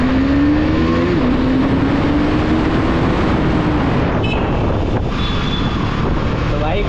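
A KTM Duke 250 motorcycle revs and accelerates on a road at night, its engine drone climbing in pitch and then holding steady, loud and close, with heavy wind buffeting the microphone throughout.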